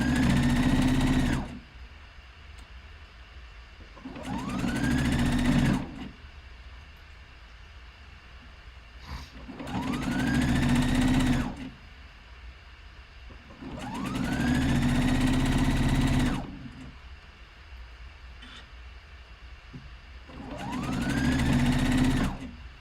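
A sewing machine stitches a big circle on lounge pants in repeated bursts, five loud whirring runs of several seconds each with a rising whine, separated by quieter pauses as the fabric is turned.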